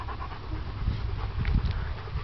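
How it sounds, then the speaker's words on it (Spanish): A large, gentle dog pants steadily in rapid breathy puffs, close and fairly loud, with some low rumbling handling noise and no speech. "Qué cosa más linda de perro."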